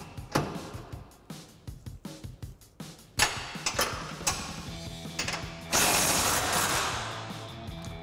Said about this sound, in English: we're gonna grab a 19 millimeter wrench and a 19 millimeter socket and remove this bolt